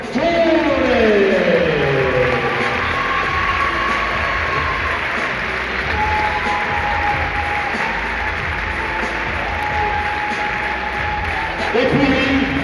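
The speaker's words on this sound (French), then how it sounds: "je vous demande d'applaudir Mohamed Touré." A crowd at a Pro B basketball game between Vichy Clermont Métropole and Rouen applauds player Mohamed Touré. Dense, steady clapping fills the whole stretch while an announcer's voice carries over it.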